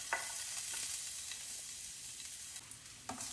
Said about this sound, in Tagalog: Pag uminit na rin ang cooking oil, ilagay na natin ang ahos.